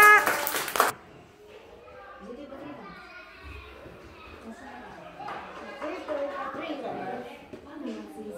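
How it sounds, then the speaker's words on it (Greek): Applause at a Greek school celebration for the 28 October holiday bursts loudly for about a second, then gives way to children chattering and talking. "Χειροκρότημα!"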